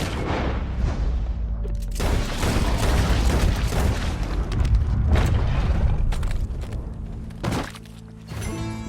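Heavy gunfire breaks out in the Red Dead Redemption 2 video game, with several loud booming blasts and their echoing tails spread across the stretch and separated by short quieter gaps.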